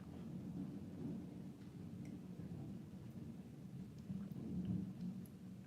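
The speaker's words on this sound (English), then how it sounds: "I am loving that thunder coming through." Low thunder rumbles steadily and faintly through a storm, swelling slightly near the end, with light rain-like hiss above it and no talking.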